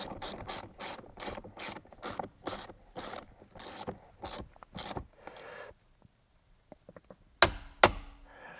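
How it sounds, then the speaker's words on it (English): A ratchet clicks in quick repeated strokes, close and crisp, torquing down the steering wheel bolt on an MKV Toyota GR Supra, then stops, leaving near-silence and a couple of sharp final clacks. "I'm going to apply some Loctite on this, and we'll torque this down."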